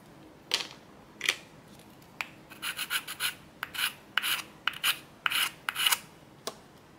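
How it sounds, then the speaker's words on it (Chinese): Short scraping strokes of sanding on a hard, slightly flexible 3D-printed resin piece, close up, coming in quick irregular bursts with brief pauses between. "再来就是打磨的部分，这个我大概先磨一下了哈"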